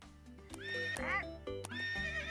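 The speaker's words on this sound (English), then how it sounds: "the horse horn sound" A horse-whinny horn on a Big Bobby Car in a racing video game, sounding twice as a loud, rising and falling neigh over a steady game music bed.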